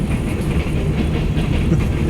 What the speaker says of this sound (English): I just thought I'd catch a little bit of the train